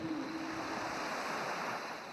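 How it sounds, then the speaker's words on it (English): Gentle waves wash onto a shore at night, a soft continuous hiss of surf and water that stays faint and steady, with a slight breezy rush and no voices. "Every time a wave washes onto the shore, the sand and water light up with twinkling sapphire colors."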